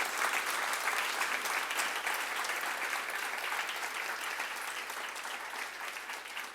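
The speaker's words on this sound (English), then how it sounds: "So I just want to thank Jeff and give him a round of applause." A round of applause from an audience at a speaker-series talk, dense even clapping that holds steady throughout and tapers slightly at the end.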